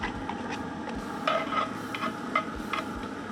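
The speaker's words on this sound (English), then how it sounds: "I got the cast iron pot in here with a couple tablespoons of canola oil. We're going to start with dumping the onions in." Onions frying in a couple tablespoons of canola oil in a cast iron pot, a steady soft sizzle with occasional stirring scrapes and clinks, close and fairly quiet.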